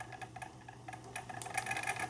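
Restored Singer Featherweight 221 sewing machine running under foot-controller speed control: a steady, faint mechanical whir with soft rhythmic ticking that grows a little louder toward the end.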